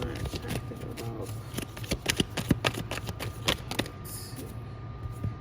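A deck of tarot cards is shuffled by hand in a run of quick papery riffles and slaps, close and fairly quiet, with low background sound under it.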